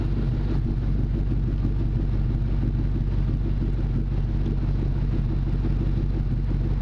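A 2000 Ford Mustang GT with a MagnaFlow exhaust idles steadily, a deep continuous low rumble with a faint clatter and no break over several seconds.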